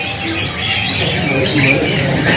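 Caged canaries and other birds calling in a bird shop kiosk, a busy chorus of chirps, squawks and trills filling the space, with faint talk in the background.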